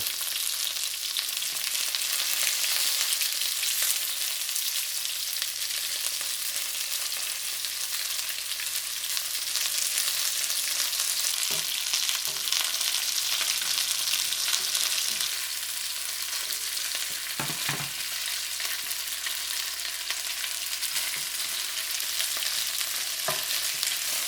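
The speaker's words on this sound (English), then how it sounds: "we can see they're browning out pretty good, so we can turn them over." Pepper fish pieces fry in a pan with a loud, even, continuous sizzle lasting throughout, broken now and then by faint clicks and a couple of soft knocks as the pieces are handled, with no voices.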